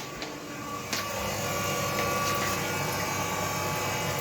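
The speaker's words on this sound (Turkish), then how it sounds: "Şimdi makine içeride çalışıyor oraya doğru gidelim." A radiator flushing machine's pump runs indoors while cleaning heating radiators, giving a steady, loud mechanical whir and hum that holds constant throughout.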